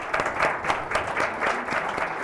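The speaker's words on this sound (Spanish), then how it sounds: "aplauso." An audience applauds at the close of a lecture, steady clapping from a moderately distant crowd for a couple of seconds.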